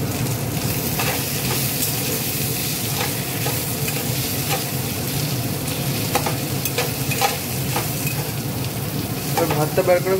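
Cabbage, potatoes and capsicum sizzle steadily in a hot pan while being stirred, with scraping strokes and occasional clinks of the utensil against the pan running continuously throughout.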